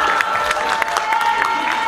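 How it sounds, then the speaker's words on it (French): An audience at the CanneSéries festival applauds, a dense patter of many hands clapping with a few sharper claps standing out, mixed with crowd noise and a steady tone, heard only briefly. "Je vous demande d'applaudir très fort Corinne Maziero et José Bayon."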